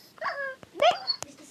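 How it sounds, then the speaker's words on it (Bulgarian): Several dogs in the Minecraft video game give short yips and whimpers, a quick cluster of sharp calls and faint clicks over about a second and a half, close and moderately loud. "Много кучета."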